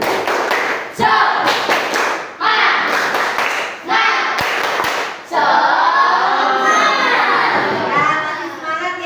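A class of schoolchildren claps a rhythmic cheer in loud bursts, with children shouting and talking over the clapping between the beats.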